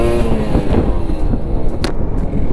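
A Kawasaki Ninja RR two-stroke motorcycle accelerating, a loud, steady raspy engine roar close by with a brief sharp crack near the end, no talk over it.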